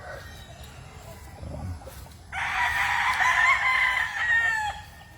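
Fighting roosters on a large farm in Claveria, Misamis Oriental, Philippines, with one close, loud crow lasting a couple of seconds, preceded by softer clucking and background farm noise.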